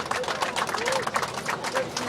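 An audience claps warmly at a gathering, a short, dense patter of many hands at moderate loudness with a faint voice mixed in.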